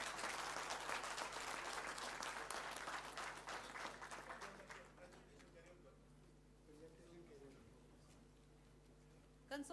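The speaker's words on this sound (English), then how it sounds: "Let's give her a huge round of applause," An auditorium audience at an anniversary celebration gives loud, sustained applause that fades over several seconds, and a voice briefly speaks under the dying claps.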